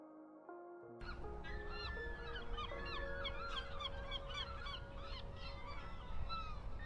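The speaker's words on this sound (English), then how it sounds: "Thousands of birds scream together. Cliffs become alive with wings." A dense colony of seabirds on Svalbard cliffs calls and squawks at once, overlapping honking cries filling the air continuously, loud and chaotic.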